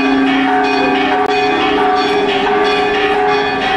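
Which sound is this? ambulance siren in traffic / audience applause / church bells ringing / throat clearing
church bells ringing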